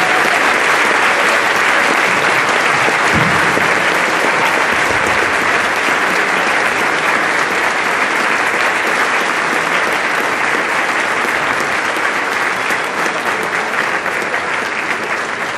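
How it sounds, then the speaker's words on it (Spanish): Loud, dense applause from a large audience at a live symphonic tribute concert for Jesús Barrero in Mexico City, a steady roar of clapping that continues without letup for the whole stretch with no voices on top. "Dar un aplauso muy fuerte a Jesús Barrero."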